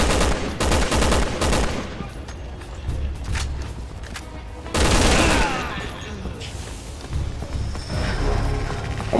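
A light machine gun nest firing in a video game, bursts of automatic gunfire at moderate distance in two heavy stretches, with other shots and battle noise between and voices talking over it.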